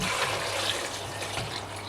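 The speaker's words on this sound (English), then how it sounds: "so let's pour water in it" Water pours steadily into a cooking pot in a kitchen, a soft continuous splashing trickle at close range lasting a couple of seconds.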